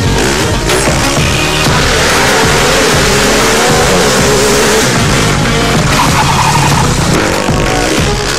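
A student-built fuel-efficient racing car, capable of more than 120 km/h, drives fast on a circuit with a loud, continuous engine roar and tire noise that stays close and intense throughout.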